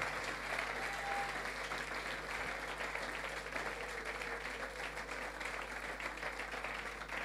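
A church congregation applauds to acclaim the Lord, a dense, steady wash of clapping that holds from start to finish without a break, loud and close with no one talking over it.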